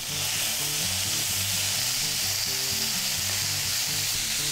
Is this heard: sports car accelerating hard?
no